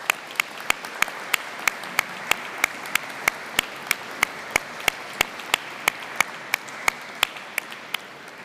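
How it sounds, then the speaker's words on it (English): At a university graduation ceremony the audience applauds in a sustained, even wash of clapping, while one set of hands near the microphone beats out sharp, regular claps about three times a second over the crowd. "applause."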